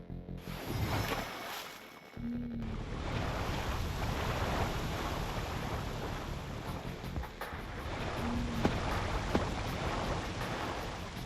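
A water bending effect in a Minecraft server mod gives a continuous rushing, surf-like wash of water with swelling waves, steady and moderately loud throughout, with a couple of brief tonal blips.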